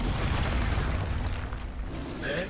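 An Expulso explosion spell goes off in Hogwarts Legacy, a loud rumbling blast that dies away and then returns as a second burst near the end, with no talking.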